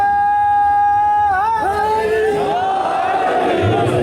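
A crowd at an Urdu-language Shia majlis for Muharram in Gulberg raises religious slogans together, a loud sustained mass of voices with rising and falling shouted tones that swell and blend into a roaring chant.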